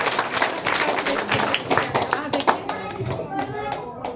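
Audience at a Hindi-language election speech event gives a loud, sustained round of clapping for a panchayat official, dense overlapping claps that swell and persist throughout, with crowd voices mixed in.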